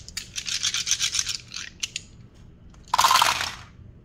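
Five dice rattle against each other while shaken, giving a rapid clattering burst, a few separate clicks, then a louder scattering clatter as they are rolled out, close and without talking.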